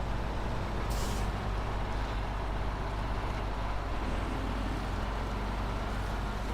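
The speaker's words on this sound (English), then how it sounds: "I'm driving a truck through a river" In the SnowRunner video game, a truck drives through a river with a constant low engine rumble. A brief hiss like an air brake comes early, and the noise stays loud and steady throughout, with no voices.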